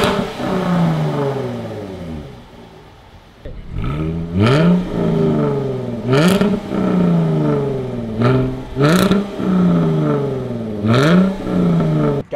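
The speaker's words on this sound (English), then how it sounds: "We're gonna drop the car right now, fire it up, give it a couple of revs and see what you guys think." A Jaguar F-Type V6 coupe fitted with an X-pipe exhaust idles, then is revved in a series of sharp throttle blips that each rise and fall back, loud and close, with no talking.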